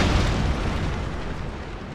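Ship cannon explosions in the video game Total War Shogun 2 Fall of the Samurai, a naval battle: a dense, continuous wall of booming blasts and rumbling fire, loud and steady throughout with no speech.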